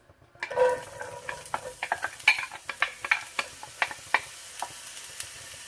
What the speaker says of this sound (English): And now I'm ready to cook the onions.